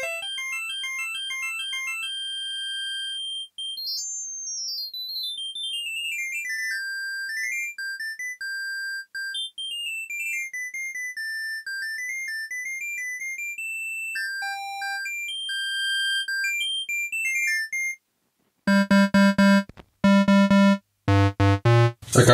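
Roland Saturn 09 keyboard playing bright synth tones in rapid runs while the pitch is swept up and down, clean and steady, followed by a few louder chopped low-pitched bursts at the end.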